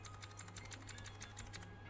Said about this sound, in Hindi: सुन रहे हो ये क्लिकी साउंड?